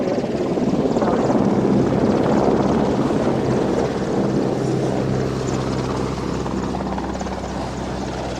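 A helicopter flies over an airshow, its rotor and engine producing a loud, steady roar that stays close and constant throughout, with no pauses.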